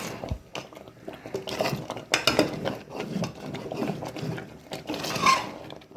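A thick boiling pudding made with Rajavalli yam is stirred in a cooking pot, giving soft scraping and sloshing with occasional utensil clinks against the metal. The sound is steady and close, with no talk.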